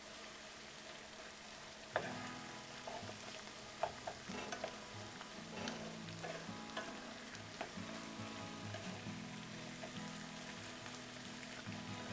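Crushed garlic being stirred around a hot frying pot while making pork schnitzel with mushroom gravy, giving a steady sizzle broken by scattered scraping stirs, with a couple of sharper clinks early on.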